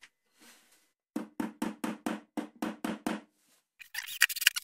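A small hammer taps a wooden beehive in about ten quick, evenly spaced sharp knocks, close and loud, followed by a brief metallic scraping clatter.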